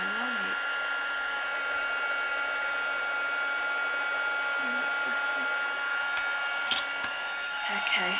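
A heat tool warming up for melting wax paper onto a napkin candle gives a steady, close blowing whir like a hair dryer, with faint murmurs of talk under it.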